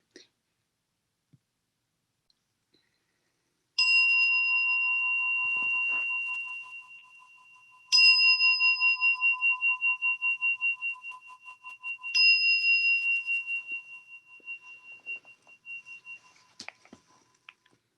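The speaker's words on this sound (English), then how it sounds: "In my tradition, I ring the bell 3 times to open and 1 to end" Digital meditation bell struck three times: three clear, pure ringing tones spaced several seconds apart, each sustaining and slowly fading in a near-silent room, with a faint click and brief rustle at the end.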